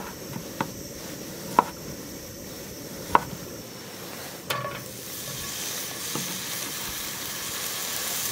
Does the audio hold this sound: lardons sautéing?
yes